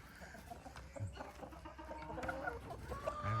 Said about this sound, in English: this whole pen is nothing but roosters in here